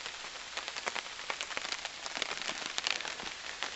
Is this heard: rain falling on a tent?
yes